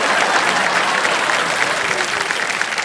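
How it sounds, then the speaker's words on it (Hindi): Dense, steady applause from a studio audience at a television quiz show, sustained and loud with no pauses, filling the whole stretch. "सबसे पहले ताली उधर से बजी"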